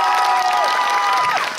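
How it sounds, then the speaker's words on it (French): Audience applause at a youth conference event in Bouaké, a steady wash of clapping mixed with cheering voices and a sustained whistle or tone, continuous and fairly loud throughout. "On applaudit pour lui."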